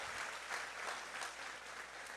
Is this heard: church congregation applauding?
yes